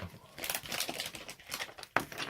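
A plastic bag crinkles and rustles close by while a board game is set up, irregular crackling bursts with a sharper snap near the end and faint voices underneath.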